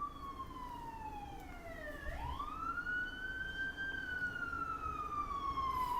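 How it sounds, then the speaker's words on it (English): Emergency vehicle siren passing nearby, a loud wailing tone that sweeps down, then rises and holds high over steady traffic rumble with no talk. "Fucking sirens, I swear to God."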